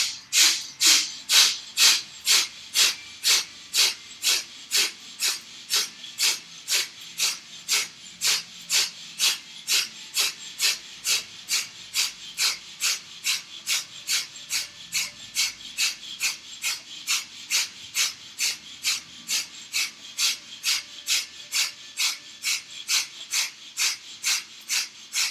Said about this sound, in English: continue fast breathing through the nose, focusing on rapid exhalations